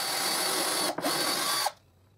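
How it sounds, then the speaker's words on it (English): A power drill whines steadily while drilling a guide hole in a table saw miter sled, with a brief dip in the middle, then stops abruptly, leaving a quiet hum. "I drill another guide hole"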